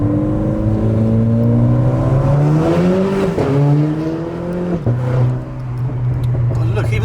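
A Renault Clio MK4 RS engine drones loudly inside a tunnel, pitch climbing as it accelerates through the gears with brief dips at each shift, heard from within the car over a steady hum.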